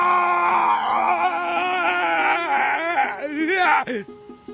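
A man screams and cries out in pain after a bird of prey tears at his eye, a loud, wavering, strained voice that rises and breaks over several seconds before cutting off into near silence.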